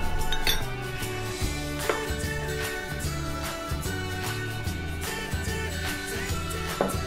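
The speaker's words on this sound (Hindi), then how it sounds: "अब इन सारी चीज़ों को हमें मिक्स कर लेना है।" Ingredients for papad chaat being mixed in a bowl, with repeated clinks and scrapes of a utensil against the dish over steady background music, no talking.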